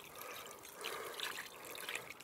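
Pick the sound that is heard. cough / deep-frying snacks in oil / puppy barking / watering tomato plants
watering tomato plants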